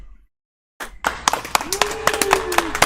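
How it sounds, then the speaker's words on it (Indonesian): Hands clap in a short burst of applause in a podcast studio after a pause, sharp irregular claps close by, alongside a brief tonal sound and a speaking voice. "Tepuk tangan dong."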